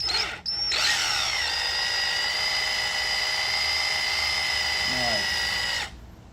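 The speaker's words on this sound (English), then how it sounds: "I'm going to do this by hand with my drill" A close, loud electric drill driving a thread tap whines at a steady pitch for several seconds, starting abruptly and winding down at the end.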